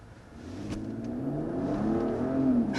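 A 2023 Mercedes GLE 450 SUV accelerating hard, its engine note rising smoothly in pitch and swelling in loudness over a few seconds, heard from inside the cabin without talking.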